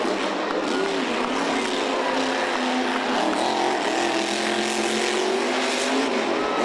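The green 30th anniversary Grave Digger monster truck, driven by Dennis Anderson, roars loudly and continuously during a freestyle run on sand, its engine revving near and constant.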